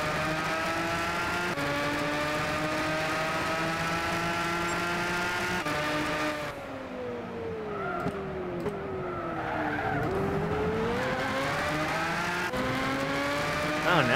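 A race car lapping in a racing video game, its engine droning steadily with pitch rising and dipping through gear changes and corners, tires skidding at times, close and continuous.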